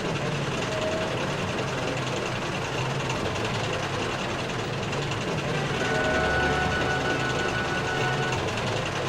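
A narrow gauge engine named Rusty speeds away on the line, a steady loud rumble and rattle of engine and wagons running continuously without pause.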